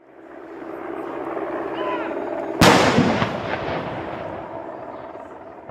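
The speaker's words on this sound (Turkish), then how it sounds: "Halka açık düzenlenen törende Hyde Park'ta 41 pare top atışı yapıldı." A single loud cannon boom from a 41-gun artillery salute in Hyde Park, London, cracks out over a steady background rumble, then rolls away slowly.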